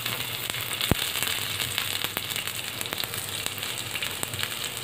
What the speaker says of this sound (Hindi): अब इसमें हम डालेंगे प्याज